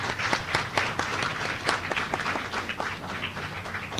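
An audience at a primary school spelling contest breaks into applause, a fairly quiet, steady patter of many hands clapping at a distance, with no talk over it.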